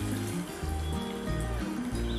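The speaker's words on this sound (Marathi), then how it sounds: "तर आता आपण ह्याला व्यवस्थित पाणी घालायचं आहे" Lukewarm water poured into a pan of spicy chicken curry gives a steady, close trickle over a constant tonal background, running for about two seconds.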